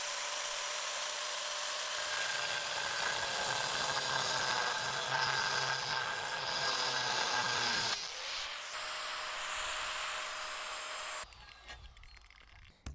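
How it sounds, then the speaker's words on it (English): Angle grinder cutting through tile guided by a jig, a loud, steady high whine with grinding rasp that shifts in pitch partway through and then cuts off abruptly near the end. "I can come in and the jig will do all of the work as I try to grind through this now."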